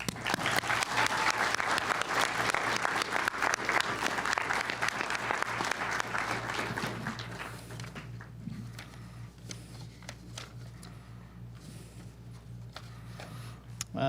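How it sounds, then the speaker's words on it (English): Audience applause at a law enforcement academy graduation ceremony, a loud, dense burst of clapping that carries on for several seconds and then thins to scattered claps under background murmur. "How about another round of applause?"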